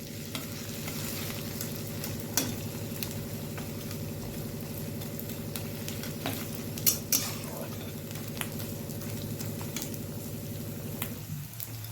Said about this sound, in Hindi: अब मैं ले रही हूँ गोंद को भी इसी तरीके से आप घी में रोस्ट कर सकते हैं